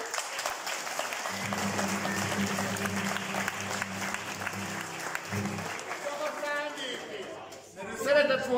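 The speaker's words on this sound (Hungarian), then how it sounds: "Tapsoljuk meg!" An audience applauds at a school camp stage play of Petőfi's A helység kalapácsa, with steady clapping that carries through most of the clip alongside a low sustained tone and some talking near the end.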